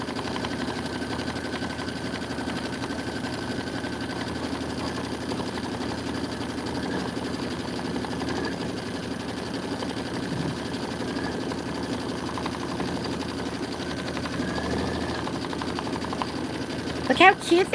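An embroidery machine stitches out a pumpkin design with a constant, even mechanical hum and rapid needle chatter that runs throughout, fairly close.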